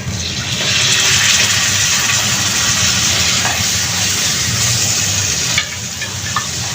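Shrimp frying in a pan with spices, a loud steady sizzle with a hissing wash that drops slightly near the end, with no talking over it.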